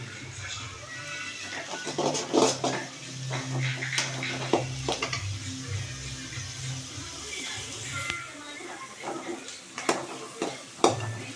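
Spatula stirring and scraping in a sizzling pan while ingredients for egg podimas are sautéed, with irregular clinks and scrapes over a low frying hiss and a voice speaking at times.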